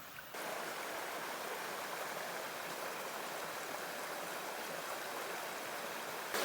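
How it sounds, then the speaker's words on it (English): Small trickle of water runoff flowing near a washed-out road culvert, a steady rushing wash of water heard alone and fairly faint throughout. "There's a little runoff there"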